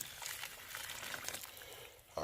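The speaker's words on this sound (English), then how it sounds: "so we pour the boiling water on the sorrel" Boiling water poured onto dried sorrel for a Jamaican sorrel drink, a steady splashing trickle that runs close and continuous for a couple of seconds, with a brighter splash at the end.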